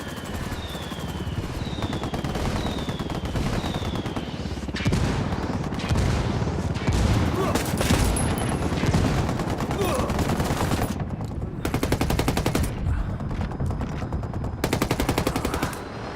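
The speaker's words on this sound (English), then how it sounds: "I called Pakatari for some mortar fire." Mortar fire and gunfire in Ghost Recon Wildlands, a dense, loud barrage of shots and booms running steadily throughout, with faint voices underneath.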